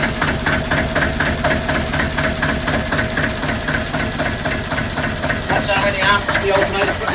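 A cold engine idling around 400 RPM, its speed hunting slightly as it runs, with a steady, continuous rhythmic knock close by throughout.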